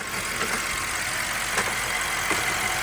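BMW 550i twin-turbo V8 engine running steadily at idle, a continuous even hum with faint ticks, heard close and alone.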